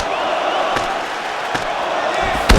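A dense arena crowd cheers and applauds in the fighting game EA Sports UFC 5, a steady loud roar broken by a few sharp thumps.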